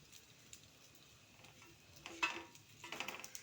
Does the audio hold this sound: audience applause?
no